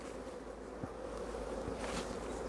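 Honeybees buzz steadily around an open beehive on a warm spring day during a hive inspection, a continuous soft hum with a few brief louder passes from bees flying close.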